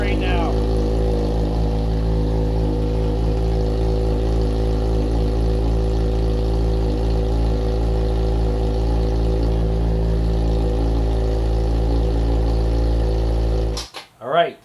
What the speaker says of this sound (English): That's the beautiful hindle that you're hearing right now.